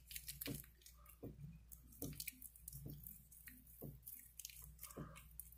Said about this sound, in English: Okay, so I'm gonna wash my face. I'm going fast, but I'm not doing it rough.